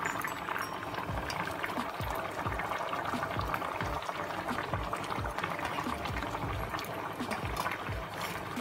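Egg curry with potato and eggplant bubbles and simmers in a covered pot on a gas stove, a steady soft boil with frequent popping bubbles throughout, fairly quiet and close.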